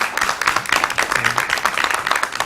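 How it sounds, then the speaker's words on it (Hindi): A television studio audience on a morning show applauds a guest named Ali Abbas, giving a brief burst of energetic, fairly loud clapping from many hands. "बहुत सारी तालियां हो जाए अली अब्बास के लिए"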